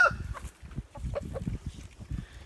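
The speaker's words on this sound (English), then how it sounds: "Chickens are crazy." Chickens cluck in quick, uneven bursts close by, a low chattering flock with a brief higher squawk at the start.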